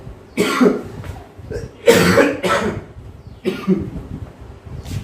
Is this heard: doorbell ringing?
no